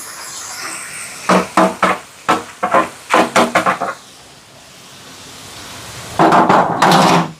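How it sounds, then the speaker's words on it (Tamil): Fried eggplant is added to a pan of sautéed ingredients in a home kitchen, giving a run of close, sharp knocks and scrapes of a utensil against the pan, a quiet pause, then a denser burst of clattering and sizzle-like scraping at the end. "இப்போ பாருங்க எல்லாம் நல்லா வதங்கி வந்துட்டு பொரிச்சு வச்சுருக்கிற கத்திரிக்காயை சேர்க்குறேன்."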